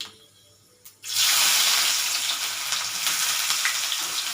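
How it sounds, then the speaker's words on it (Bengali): Chopped onion hits hot oil in a pan with fennel seeds, cooking for an egg akuri dish: a near-silent moment, then a sudden loud burst of sizzling that settles into steady, dense crackling. "এবার আমি এই যে পেঁয়াজ কুচি করে রেখেছিলাম পেঁয়াজ কুচিটা আমি দিয়ে দেবো"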